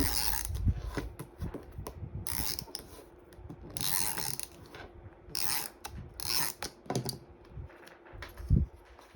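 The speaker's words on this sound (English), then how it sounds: "I'm going to put my double-sided tape on that" Double-sided tape is peeled and pressed onto paper while assembling a paper chapstick purse, giving repeated close scratchy rubbing and tearing bursts over a faint background hum, with no talk.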